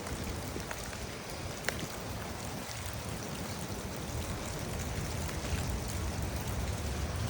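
Heavy rain pours down steadily outdoors beside a creek bed that is filling with runoff, a dense continuous wash of water with no voices over it.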